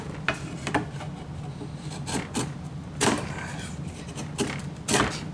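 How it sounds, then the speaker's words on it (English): Sandpaper rubbed over a wooden sword in a handful of separate strokes, each a short close raspy swish with quieter gaps between, no speech. "I do have some sandpaper, so I will be using some of that in order to make it look a little better."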